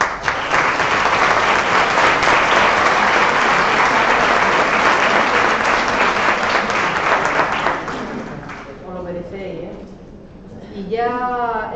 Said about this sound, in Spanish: yo quiero comenzar con un reconocimiento y un aplauso para vosotras y para